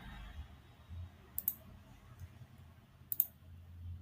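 A computer mouse clicks twice while someone works in CorelDRAW 2021, two short, sharp pairs of clicks over a quiet background.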